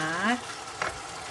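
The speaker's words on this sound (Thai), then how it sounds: "กระทะนี้จะผัดเผ็ดหน่อยนะคะ" A spicy stir-fry is cooked in a pan with a steady sizzle and scraping stirs, after a brief vocal sound at the start.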